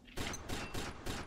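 Semi-automatic gunfire in the shooter game Combat Arms: four sharp shots in quick, even succession, each a loud broadband crack with brief tail, fairly close.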